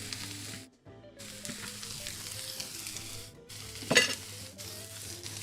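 Onions, chilies and lots of spices hit smoking oil in a pan over a campfire for Bombay potatoes. A close, crackling sizzle builds steadily, with brief drop-outs and a sharp, louder burst as more ingredients go in.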